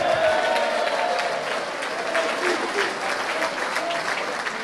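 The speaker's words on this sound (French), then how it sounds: "On les applaudit." A crowd at a political party's anniversary speech in London applauds steadily, dense clapping holding at an even level throughout, with a few scattered voices within it.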